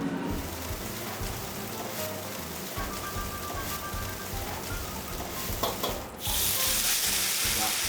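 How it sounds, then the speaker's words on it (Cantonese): Rice noodles frying in a red-hot wok in a restaurant kitchen, steady sizzling with occasional stirring scrapes, a brief dip near the end before the sizzle swells louder again. "然後咧我哋煎米粉咧，要首先咧燒紅咗喎"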